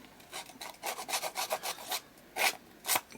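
A Halloween prop being scuffed and roughened by hand, a quiet series of short rasping rubbing strokes in quick rhythm, with two louder scrapes near the end.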